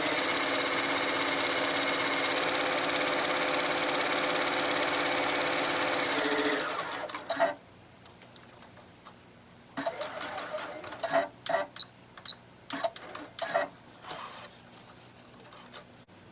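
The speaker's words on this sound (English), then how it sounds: "now I'm going to do my gathering stitches." A sewing machine runs gathering stitches on a dress in one long, steady, close run of about seven seconds, then stops, followed by scattered clicks and rustling of fabric being handled.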